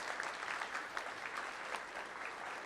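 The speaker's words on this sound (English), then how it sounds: "a huge round of applause for these people" Applause from a crowd at a medical device demo day, a steady wash of clapping hands filling the room for a few seconds without talk.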